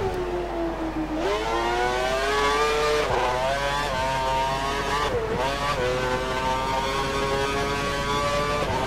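A Formula 1 car's high-pitched engine screams and revs continuously in a racing game, pitch dipping at gear changes and climbing again through the lap, loud and steady with no talk.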